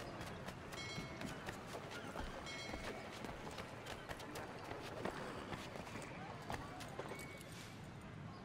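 Horse hooves clip-clop at a steady running pace in the Assassin's Creed 3 Remastered video game, a continuous moderate patter set among other game sounds.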